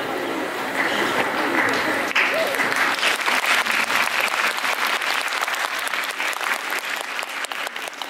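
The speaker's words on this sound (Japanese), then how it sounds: "何この自己満の拍手" An audience at a Universal Studios Japan show claps together in a dense, sustained burst of applause that swells quickly and holds steady, with voices mixed in under the clapping.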